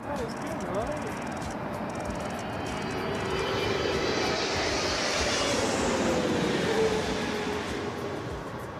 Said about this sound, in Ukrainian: Наче це літак American Airline.